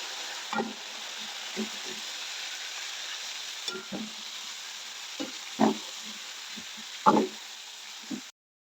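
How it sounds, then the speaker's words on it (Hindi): Chicken pieces fry in a pan for Shahi korma, a quiet steady sizzle broken by a few soft knocks and stirring scrapes, heard close and alone. "चिकन को फ्राई करेंगे।"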